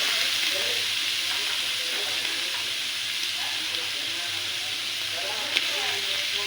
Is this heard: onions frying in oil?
yes